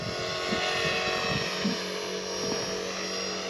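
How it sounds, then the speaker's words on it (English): A small radio-controlled scale helicopter with a flybarless rotor head flies nearby, a steady buzzing whine of motor and rotor blades holding constant, with some softer fluttering low down. "as you can see, it's quite a nimble little helicopter, and it's not one that I'm afraid to throw around"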